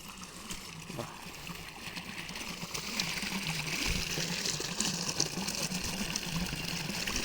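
Irrigation water flows steadily out of a pipeline onto a farm field, a soft, continuous gushing splash that grows a little stronger partway through.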